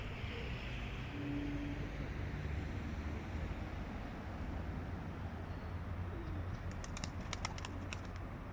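Soft, low cooing of pigeons murmurs steadily through a constant background hum, with a few faint higher chirps near the end.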